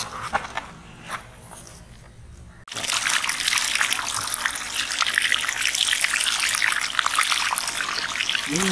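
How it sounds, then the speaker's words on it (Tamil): Leather jacket fish being washed in water for a large fish fry, heard as quiet trickling and handling at first, then a sudden loud continuous gush of pouring, splashing water. "மீன் நல்லா கழுவுங்க."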